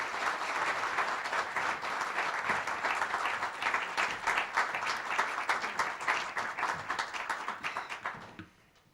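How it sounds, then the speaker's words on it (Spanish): An audience at a Spanish book presentation applauds to welcome the author, a sustained, fairly even round of clapping from a room of people that stops abruptly near the end. "les pido un fuerte aplauso para recibir a la protagonista"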